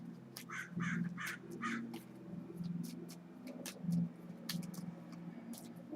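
Several harsh crow caws ring out in bursts against a low steady rumble, with a pause before a few more calls near the end.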